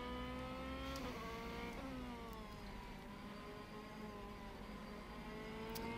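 A DTM race car in a racing video game at the Assen circuit revs hard and continuously, its engine pitch dropping abruptly at a couple of gear changes before climbing again, loud and close with no talking.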